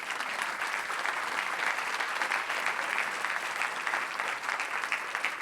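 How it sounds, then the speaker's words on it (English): A conference audience gives a big round of applause, a continuous, even roar of many hands clapping with no talk over it. "You should give yourselves a huge round of applause."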